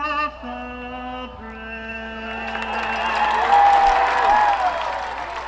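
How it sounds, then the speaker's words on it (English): Crowd applause and cheering swell at a high school varsity football game between Baylor and Archbishop Stepinac, rising under the held final note of a sung national anthem and building to a broad, sustained roar of clapping from the stands. "Nice round of applause."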